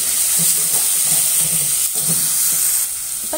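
Chopped onion and tomato sizzle steadily in a pan for a cooking dish with snake gourd, with soft scraping stirs of a spoon breaking through the constant close frying hiss.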